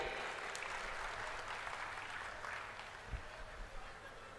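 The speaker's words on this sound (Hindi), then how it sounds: "जोरदार ताली बजाइए।" A crowd at a political campaign rally claps steadily and fairly loudly throughout, a dense continuous patter of applause with no voices.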